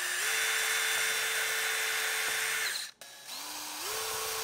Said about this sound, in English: carefully drill in